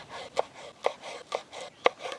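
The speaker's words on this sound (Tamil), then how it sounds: "பச்சை மிளகா நல்லா பொடியை கட் பண்ணி எடுத்துக்கலாங்க" A knife finely chops green chilies on a cutting board, giving five crisp, evenly spaced strikes close to the microphone with quiet scraping between them.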